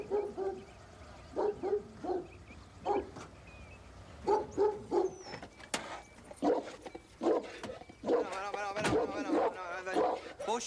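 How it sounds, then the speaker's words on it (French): A dog gives a series of short, loud barks and yips in uneven bursts, close by, with a person talking in between. "Beau chien, va chercher ton os."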